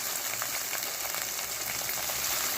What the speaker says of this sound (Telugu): సో పెద్ద ఉల్లిపాయ తీసుకుని ఇలా వేయించేయాలి.